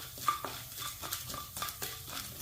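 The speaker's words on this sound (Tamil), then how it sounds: "அது செவக்க வறுக்கணும். பாருங்க, நல்லா வறுத்துட்டு இருக்கு." Urad dal roasting in a pan is stirred with a spoon, giving repeated scraping and rattling strokes at an uneven rhythm, close and moderately loud.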